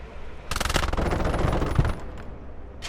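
Friendly infantry open fire in a tank video game, a rapid rattling burst of automatic gunfire lasting about a second and a half at moderate, somewhat distant volume, followed by a quieter tail and a final sharp shot.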